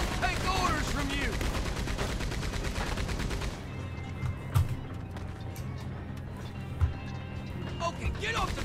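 Rapid bursts of mounted gunfire in Red Dead Redemption II, loud and continuous for several seconds amid hoofbeats and carriage rattle, then giving way to quieter clatter with a few isolated shots.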